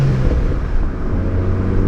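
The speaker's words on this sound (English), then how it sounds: "That supercharger sounds so good." A supercharged V6 Mustang engine runs with a steady, deep rumble and a faint whine on top, close and constant through a short stretch with no talk.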